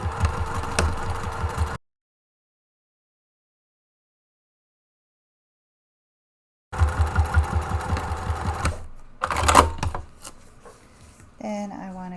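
A sewing machine stitches the exterior seams of a tote bag with a generous seam allowance, in two bursts of steady mechanical whirring separated by a long silence, followed by fainter handling noises.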